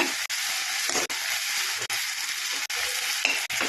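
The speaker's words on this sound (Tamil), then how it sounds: "தக்காளி ஆட் பண்ணிட்டு நல்லா வணக்கி விடுங்க, நல்லா மிக்ஸ் ஆகட்டும்." Tomatoes frying and being stirred in a pan for vegetable kurma, a steady close sizzle broken by short regular pauses as the spoon scrapes through, with no talking.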